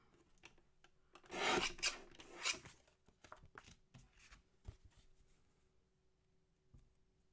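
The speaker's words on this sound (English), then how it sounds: "I'm going to trim a little bit off that edge too." The edge of a crafting card being trimmed: quiet, close scratchy rasping in a couple of short bursts, then scattered soft clicks and rubs, with no talking.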